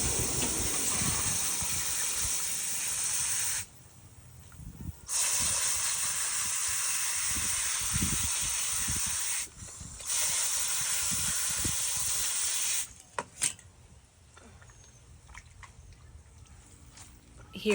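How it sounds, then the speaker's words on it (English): A rattlesnake skin is rinsed under running water to clear off ash and blood. A strong, steady hissing stream starts and stops several times, then gives way to softer splashes and handling sounds. "Here I am just rinsing off the skin, getting any ash from the fire off of him"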